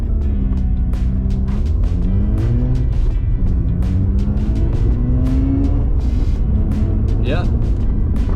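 Mazda RX-8, freshly out of limp mode, pulls away and accelerates, its engine note rising and shifting steadily through gears under continuous road noise, with a voice speaking over it.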